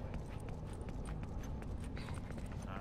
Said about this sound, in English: I hear the fucking horse behind you.